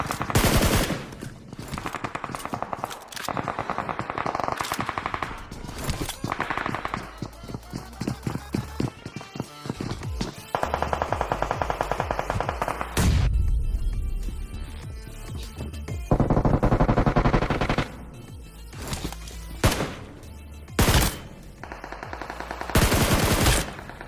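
Video game gunfire during a squad fight in which a third squad joins in: dense, loud automatic bursts and rapid single shots crowd together almost without pause, with short gaps between volleys.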